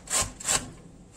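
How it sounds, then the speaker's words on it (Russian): Zucchini rubbed down a coarse grater in two quick rasping strokes, close and fairly quiet, followed by a fading scrape. "Натрем на крупной терке кабачки."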